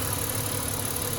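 A car engine idles smoothly with no misfires, a steady close mid-range rumble filling a short stretch with no talk.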